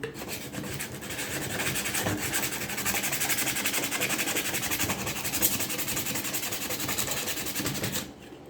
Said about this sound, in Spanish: Aquí voy a dar un poco de lija.